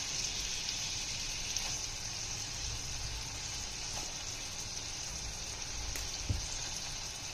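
Green chillies, onion and tempering spices frying in butter give a steady, moderate sizzle and crackle that holds evenly throughout with no talking.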